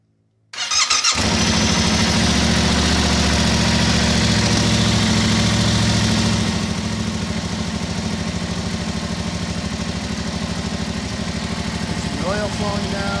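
A 2022 Yamaha R7 motorcycle engine cranks and fires after a moment of quiet, then settles into a loud, steady idle close by, the even rumble continuing to the end with a slight drop in intensity.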